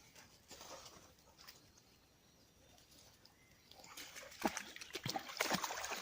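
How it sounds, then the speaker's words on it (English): Dogs splashing through a river on a hot, peaceful walk, with soft wet splashes and paddling that build louder and closer toward the end over a quiet outdoor background with faint birds. "Except for the splosh of little doggies"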